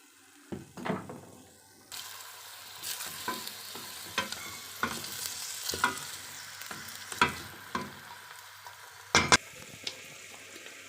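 Onions frying in cooking oil during a Kenyan batch meal prep, a soft continuous sizzle broken by repeated clanks and scrapes of a spoon stirring in the pot, with a sharper burst of crackle near the end.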